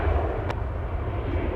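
An airliner taking off from Los Angeles International Airport: a steady, distant jet-engine roar with low rumble, brief and continuous, with no voices.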